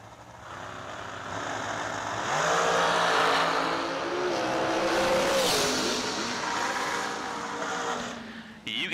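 Drag racing cars, including a Race Tech dragster, launch down the strip at a summer event, a distant engine roar that swells and holds for several seconds before fading, with faint announcer talk beneath.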